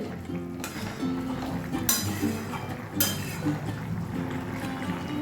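A spoon stirs jackfruit seed curry in a pot, giving a few sharp metallic clinks against the rim over a low bubbling simmer, all close by and fairly quiet.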